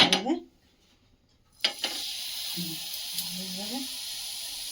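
Chicken pieces dropped one by one into melted butter in a pan, with a short burst of speech at the start, then a loud sizzle that breaks out and keeps frying steadily nearby with faint scraping.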